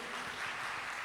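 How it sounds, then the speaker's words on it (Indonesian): Faint, distant clapping from a church congregation applauding during a service, a soft continuous patter of many hands with no voices on top. "Betul, tepuk tangan semua untuk Tuhan Yesus."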